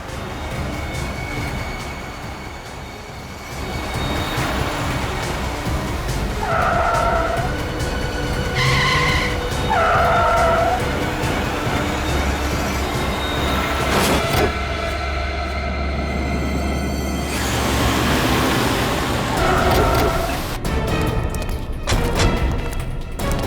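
A car is driven wildly in a crime drama scene, with long tire-skidding screeches and engine roar over a loud, continuous backdrop, broken by a few sharp tonal blasts.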